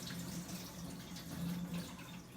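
Rinse water is poured off rice in a kitchen, running as a steady, close splashing flow with no one talking over it.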